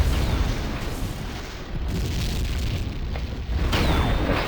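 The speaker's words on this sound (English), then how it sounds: "That's Koala from the Zoo team bouncing around throwing mortars at random" Mortar blasts in the Tribes 2 match on the map Pandemonium, a steady rumbling barrage of low booms and bursts that goes on without letup, with a whistling streak arcing through near the end.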